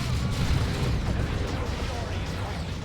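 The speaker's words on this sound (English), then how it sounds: "Grenade." A grenade explosion in Warhammer 40,000: Dawn of War 2, a heavy low rumbling blast that fills the short stretch, mixed with other battle noise and a talking voice.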